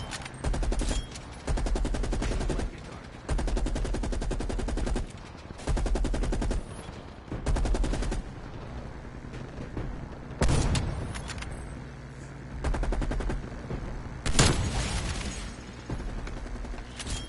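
Sniper and rifle fire in a shooter video game, with repeated bursts of loud, close gunshots in rapid runs separated by short quieter gaps, continuing through the whole stretch without talk.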